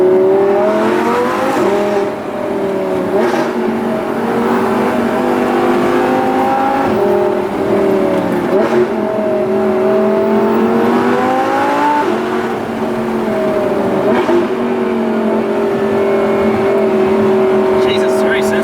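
An Audi R8 V10 Plus engine revs and accelerates loudly and continuously from inside the car, the pitch rising and falling with throttle changes under occasional talk.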